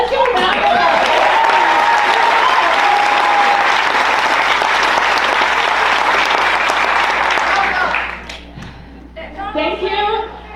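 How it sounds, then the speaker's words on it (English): Rally crowd at a people's town hall breaking into loud, sustained applause with cheering and whoops, fading near the end as a voice starts speaking over the last claps. "Let's give a round of applause."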